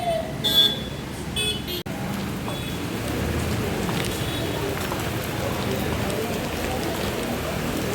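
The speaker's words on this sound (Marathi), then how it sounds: "मित्रांनो पावसाचं आगमन झालेलं असा" Steady rain pours down over a Sunday weekly market street in Dodamarg, Konkan, a dense, even hiss that fills the scene after a few brief clatters and faint vehicle sounds at the start.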